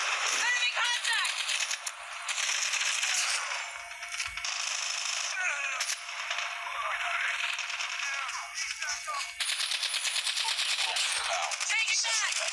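Rapid bursts of AK-47 fire in the shooter game Call of Duty Mobile, a dense, continuous crackle of shots with brief pauses between volleys and loud game sounds throughout.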